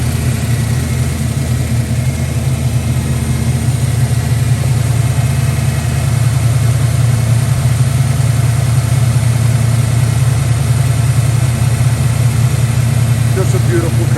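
A 1989 Ford Mustang LX 5.0 notchback idles steadily and loudly, its deep, even engine drone holding for the whole stretch with no revs or pauses.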